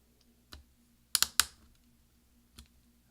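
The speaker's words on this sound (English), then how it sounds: "we're going to push down with our finger until we hear several snaps" A replacement V key on a 13-inch Early 2009 MacBook Pro Core 2 Duo snaps onto its keyboard: a quick cluster of three sharp plastic clicks near the middle, with fainter taps before and after, close and quiet.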